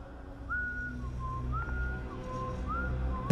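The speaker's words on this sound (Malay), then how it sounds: "Sejam kemudian, bunyi siulan tu kembali." Eerie whistled tune drifting through a house at night in a horror story, three slow rising and falling phrases, soft and steady over a low background rumble, no voices.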